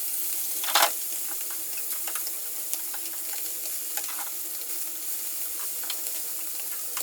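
River fish frying in coconut oil in a pot as it is turned over, a soft continuous sizzle with a clatter near the start and faint scattered crackles, close and without speech.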